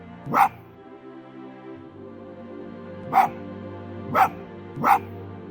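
A fox spirit barks in the video game Spirit of the North: four short, sharp yipping barks spaced irregularly over a quiet, droning game ambience.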